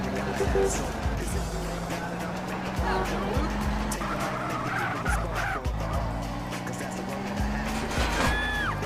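A lowrider races through the streets of GTA San Andreas Definitive Edition, its engine droning steadily as the tires skid and squeal under a dense, continuous layer of game sound.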